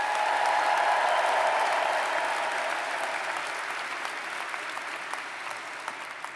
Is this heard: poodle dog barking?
no